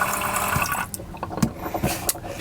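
A Dometic water pump runs water into a camper sink. Running water gushes steadily, then breaks into splashes and drips as the flow slows and stops.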